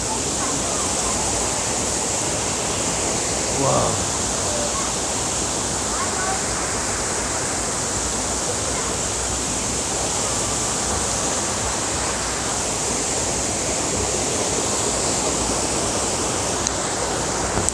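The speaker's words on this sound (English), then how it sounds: "Guys, I'm just now going down to the waterfall" A waterfall in Oloolua forest, Nairobi, rushes with a steady, loud, unbroken roar close by throughout, and a single brief voice briefly rises over it.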